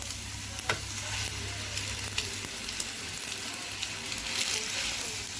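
Spaghetti sizzles and fries steadily in a wok while being stirred, with occasional scraping clicks over a constant hiss; close and moderately loud, no talking.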